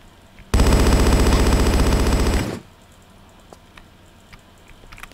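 Turret gunfire in the video game Tomb Raider 4: a loud, rapid automatic burst of about two seconds with tightly spaced shots, then quiet game ambience with faint ticks.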